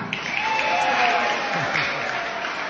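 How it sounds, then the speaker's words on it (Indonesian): Audience applause after a storytelling recitation, steady continuous clapping from a crowd throughout, with voices murmuring underneath. "Tepuk tangan"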